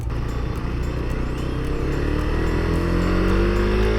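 Suzuki GSX-R125 motorcycle under way, the small-displacement engine note climbing in pitch as it revs up through the gear, heard steadily and close with road and wind noise beneath.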